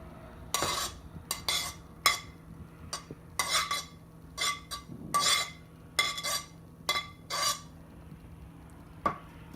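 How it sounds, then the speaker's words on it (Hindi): Chopped vegetables going into a bowl for a creamy salsa dip, heard as close, uneven clinks and scrapes of utensil against bowl in short bursts with brief quiet gaps, no talking. "मैं एक बाउल लूँगी, उसमें मैं डाल दूँगी ये जो मैंने वेजिटेबल्स काटे हैं सारे"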